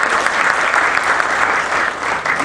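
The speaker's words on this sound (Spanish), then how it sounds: "el distinguido maestro Alberto Vázquez Ríos, a quien saludamos con fuerte aplauso también." Strong audience applause fills a formal ceremony of the Lima Bar Association's ethics council, a steady, dense clapping from a crowd that holds at full volume throughout.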